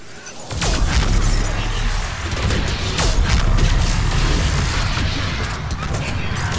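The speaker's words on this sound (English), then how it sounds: "That was a happy cavalcade of explosions." Chaotic Mass Effect 3 combat on a high difficulty: dense, loud explosions and booming gunfire pile up over a continuous low rumble, with sharp crashes and shattering bursts throughout.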